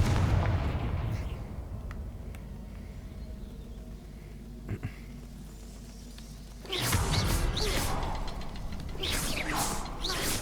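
A Confringo fire blast spell fires in Hogwarts Legacy, a loud burst of roaring, crackling noise that starts abruptly and sustains, after a quieter stretch of low ambient rumble with a couple of faint taps.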